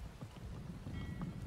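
Rain falls steadily around a spring fishing outing outdoors, a soft continuous patter with a few brief low thumps, no voices.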